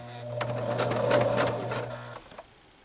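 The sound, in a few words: sewing machine stitching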